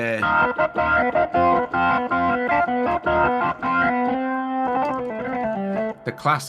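Hammond B-3X organ app by IK Multimedia on iPad with a distortion effect, playing choppy chords and a sustained note, gritty and buzzy, with brief stops between phrases.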